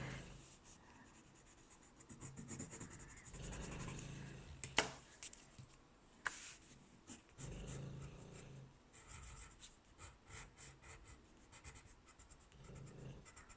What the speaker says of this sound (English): Think about being quite controlled with your scribbling.